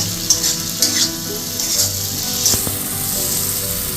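A potato, tomato and spice mix sizzles steadily in a pan after a splash of water, a continuous close hiss with a few soft bubbling pops and light stirring clicks.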